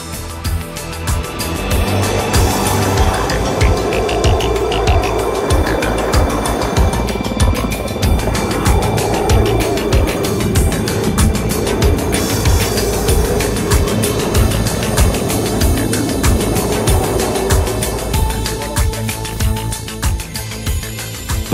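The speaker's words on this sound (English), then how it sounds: "the helicopter takes the floor elements from Riffelboden to the building site" A helicopter ferrying heavy floor elements from Riffelboden to a mountain building site in the Alps, a loud, continuous rotor thrum and engine drone holding steady throughout, close by and unbroken.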